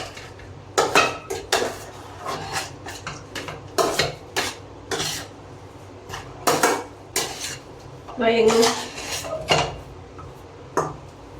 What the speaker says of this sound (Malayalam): ഇനി ഇത് നന്നായിട്ട് ഇളക്കി കൊടുക്കുക